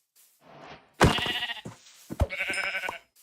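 Minecraft sheep bleat several times in a row, loud and close, with short wavering cries and brief pauses between them.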